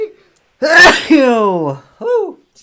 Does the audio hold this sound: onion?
no